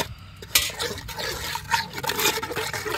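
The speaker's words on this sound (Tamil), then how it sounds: "ஊற்றிட்டு நல்லா மிக்ஸ் பண்ணிக்கலாம்." Coconut ice cream mixture is poured and sloshes in liquid splashes with a sudden onset, then continues as uneven watery churning close by.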